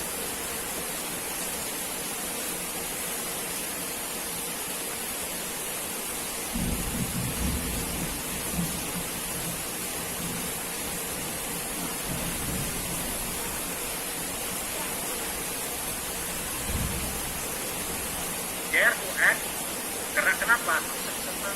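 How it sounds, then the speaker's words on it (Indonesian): Heavy rain pours as a steady, hissing wash of noise, with a few low rumbling thumps partway through and brief faint sounds near the end. "Hujan gede."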